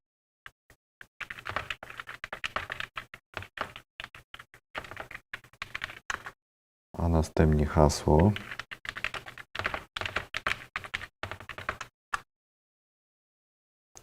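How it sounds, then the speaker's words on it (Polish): Typing on a computer keyboard while logging in to Office 365: bursts of quick, close key clicks across the clip, pausing for a stretch of talk in the middle and stopping near the end. "Wpisujemy adres, swój adres."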